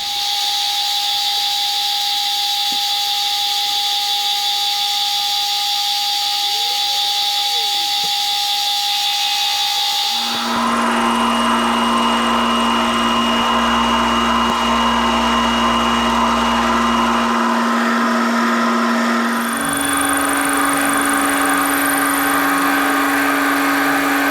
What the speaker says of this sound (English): we're ready to take our first cut of the 5th edge